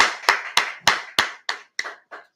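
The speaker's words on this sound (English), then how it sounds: "everyone clap it up, clap it up, clap it up" Eight separate hand claps in a slow, fading rhythm, each sharp and distinct, from a small group or single clapper at a scripture class gathering, with no talk.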